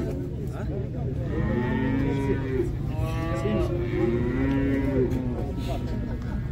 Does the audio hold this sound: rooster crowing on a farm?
no